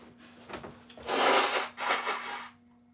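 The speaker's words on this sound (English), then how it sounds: "I gotta blow my nose" A person blows their nose during an Easter breakfast cooking session, two loud, breathy honking bursts in quick succession, close to the microphone, with no talk.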